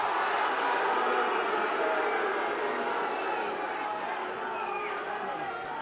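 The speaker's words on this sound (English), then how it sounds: "You can hear the Ulster crowd really trying to ignite this Ulster team" A rugby stadium crowd roars steadily for Ulster at a home match, a broad, distant wash of noise under a commentator's voice.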